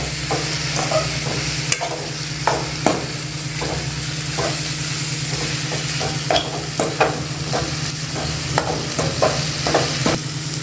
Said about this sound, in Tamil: இப்போ அதை எல்லாத்தையும் போட்டு நல்லா வதக்கிக்கோங்க.